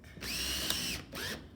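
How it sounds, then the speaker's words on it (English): A power drill fitted with a countersink bit cuts a screw recess in two short whirring bursts separated by a brief pause, close and fairly quiet. "We use a countersink, and it countersinks the shape of the screw."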